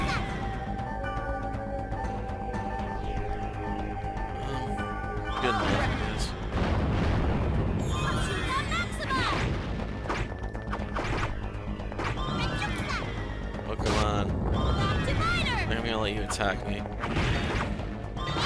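Gunfire in the video game .hack//QUARANTINE, heard as repeated loud blasts and crashing bursts over busy game music and effects, with voices talking throughout.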